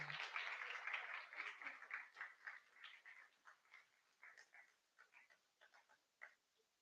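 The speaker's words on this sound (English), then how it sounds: "Let's give a round of applause," Applause from an audience at a felicitation during a launch event, starting strong and then thinning into scattered individual claps that fade out, faint and sparse by the end.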